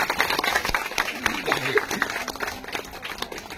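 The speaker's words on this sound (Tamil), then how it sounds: "அவங்க எல்லாருக்கும் ஒரு நல்ல கைதட்டு கொடுங்க" An audience claps together at a temple consecration ceremony in Tamil Nadu, a loud, dense, steady roar of hands over room noise, with a voice faintly audible underneath.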